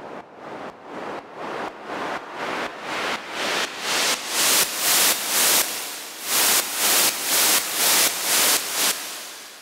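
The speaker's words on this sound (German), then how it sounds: "du hörst, wie das Rauschen dann so langsam auch mit dem Hall noch im Hall versinkt" White noise riser effect for an EDM track, pumping in steady rhythmic sidechain bursts that swell louder, then fade as a reverb tail lingers at the end; no voices.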